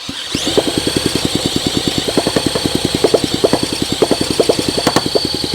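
A Honda SL125 motorcycle engine runs with rapid, steady loud popping pulses close by as throttle is applied, a continuous rhythmic putter with a faint high whine above it and no talk.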